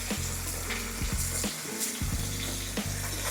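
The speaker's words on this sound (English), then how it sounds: "we're gonna sit these pork chops in that grease and let it do its thing." Pork chops frying in grease heated to 350 degrees, a loud, steady close sizzle and crackle that runs throughout with no voices.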